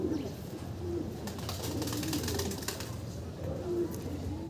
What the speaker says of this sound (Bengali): এখানে চমৎকার এক পেয়ার মাল্টেস কবুতর